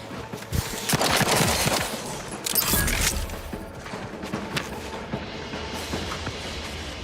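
Gunfire from a sci-fi first-person shooter game, Outer Worlds 2, rattles off in a couple of dense bursts near the start, then trails into a quieter stretch of scattered shots and ambient game noise.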